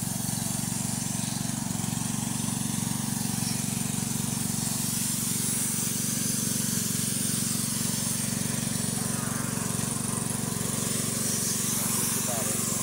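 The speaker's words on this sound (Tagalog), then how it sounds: "Ganyan po kami kung mag-spray mga idol." A pesticide sprayer mists plants, including eggplant, in a farm field, giving a steady, continuous hiss with a low engine-like drone beneath it, unbroken and fairly close throughout.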